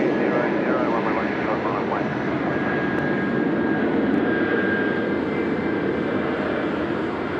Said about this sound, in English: Jetstar from the Gold Coast just joining us here now